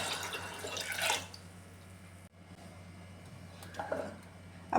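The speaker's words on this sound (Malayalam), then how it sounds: "ഇതിന് ഒരു കപ്പ് വെള്ളം കൂടെ ഞാൻ ഒഴിച്ചു കൊടുക്കുകയാണ്" A cup of water poured into a pressure cooker holding beans, a short splashing gush near the start that drops away into quiet kitchen background, with a few faint drips later.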